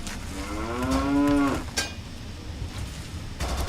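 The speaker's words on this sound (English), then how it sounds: "I just tipped a cow." A single loud, close moo from a cow just tipped over in the video game Fallout 3, a rising and falling bellow lasting over a second, followed by a short thud and quieter ambient rumble.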